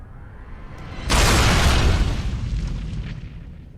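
A heavy blast as an anvil is destroyed in Dragon Age Origins, a sudden loud boom after a quiet second that rumbles and slowly fades over the following seconds.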